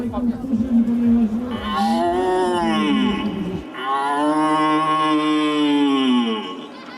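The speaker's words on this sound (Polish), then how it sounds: "a to jest głos byków, które zaczynają rykowisko we wrześniu" Young red deer stags roar at the start of the September rut: two long, drawn-out, loud bellows follow one another, each rising and falling in pitch, with a brief pause between them.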